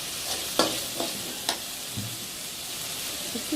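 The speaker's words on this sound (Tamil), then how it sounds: "தக்காளியை ஒரு 2 நிமிஷத்துக்கு நல்லா வதக்கிக்கோங்க" Tomatoes sauté in a pan with a soft, steady sizzle, broken by several sharp scrapes and taps of a spoon stirring against the pan.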